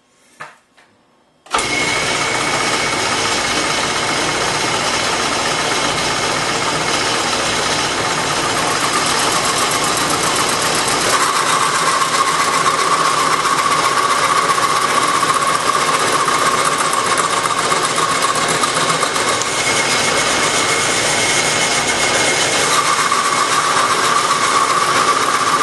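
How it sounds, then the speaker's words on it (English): Wood lathe roughing out salt shaker blanks from woodpile wood, a steady loud broadband whir that starts abruptly after a brief quiet moment and runs continuously with a faint tonal whine, no talking. "I like to do the roughing on the lathe because it is a little bit faster."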